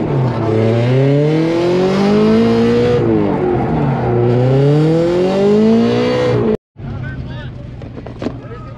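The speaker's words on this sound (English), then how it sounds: "Top 32 with Austin Smith in a white Corvette." A white Corvette drift car revs hard through a Top 32 competition run, its engine pitch rising and falling in long sweeps, loud and close under excited commentary, then cutting out briefly before resuming.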